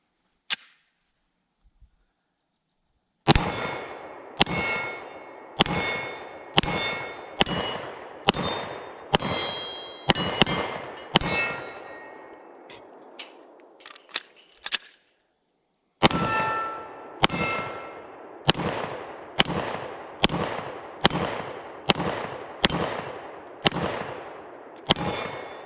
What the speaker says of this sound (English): let's take our first shots with the Glock 20